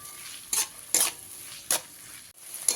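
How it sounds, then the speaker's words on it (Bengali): Onions frying with a pinch of salt in a pan, a low sizzle broken by several sharp scrapes and clinks of a spoon stirring against the metal, close and clear. "পেঁয়াজের মধ্যে অল্প পরিমাণ লবণ দিয়ে পেঁয়াজটাকে খুব ভালো করে লাল করে ভেজে নিতে হবে"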